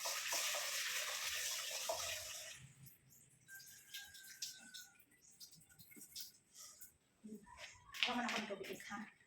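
Tap water runs into a cooking pot for mung beans in a small apartment kitchen, a broad rushing hiss that fills the first few seconds and then gives way to clinks and handling noises, with a voice speaking over it.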